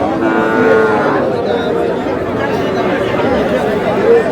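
At a cattle market, Sahiwal bull calves give drawn-out moos near the start and end, set against a constant murmur of crowd chatter and bustle.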